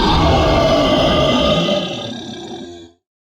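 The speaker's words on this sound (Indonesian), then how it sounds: "Suara raungan keras membangunkan Li Hao dari tidurnya." A loud, deep, rumbling roar sustains for nearly three seconds, fading slightly toward the end before cutting off abruptly.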